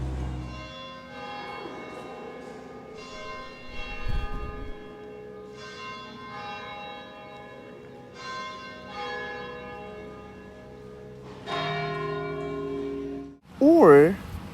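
Church bells in Reykjavik ringing a melodic chime of several clear, sustained tones in a slow sequence, fairly near and ringing on, with voices heard briefly near the end.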